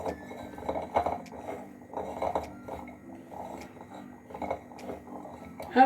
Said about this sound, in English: put cabbage, onion, white onion and spring onion all together. You mix first.